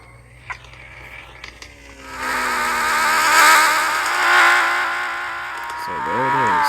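A car spawns in the video game Drive X Cars with mechanical ratcheting clicks, then its engine surges into a loud, sustained rev that rises and falls, ending in a sharp whirring swoop.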